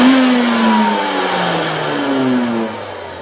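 A Nutribullet Rx 1700 blender motor runs loud and close with no mug fitted, a steady high whirring drone with gliding pitch that winds down slightly near the end.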